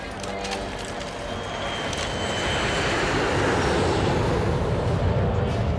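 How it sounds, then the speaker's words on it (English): A plane touching down on landing roars with a broad, steadily building engine and rumble noise, loud and close, with a voice briefly heard at the start. "Plane is touching down, sir."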